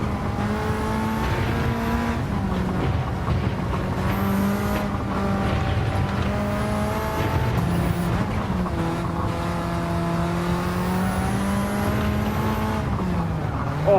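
Mitsubishi Evo racing in Gran Turismo 7, a loud continuous engine note rising and falling through gear changes, with occasional tire squeal, steady and close throughout.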